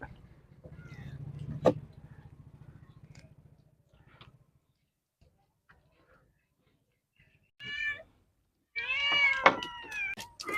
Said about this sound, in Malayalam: ഒരു കൊച്ചു പൂച്ച അവിടെയാണ്